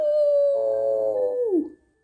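A storyteller reading a children's book aloud imitates a coyote howling in the distance with one long, steady, wavering howl that slides down and fades out, close and clear.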